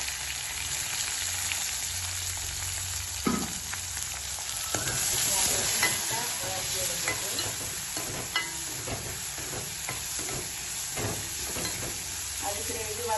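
Onion, garlic and curry leaves sauté in a pan, giving a soft, continuous sizzle. A spoon scrapes and stirs in uneven strokes over it, and a voice can be heard faintly in the background.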